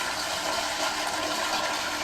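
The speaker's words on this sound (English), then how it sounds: "Oh God, are you gonna try to flush those?" A toilet flushing with steady rushing, swirling water and no pause, as pencils are sent down the bowl; loud and close, continuous for the full two seconds with no talk.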